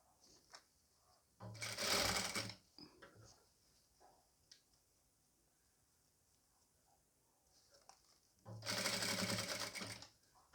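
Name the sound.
sewing machine stitching folded piping on a nighty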